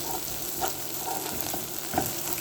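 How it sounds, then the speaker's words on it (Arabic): Sliced onions sizzling steadily in two spoons of oil for Egyptian sayadiya fish rice, a soft continuous crackle and hiss with occasional faint stirring clinks, with no voices over it. "ولازم بقى البصل بتاع السمك يحمر"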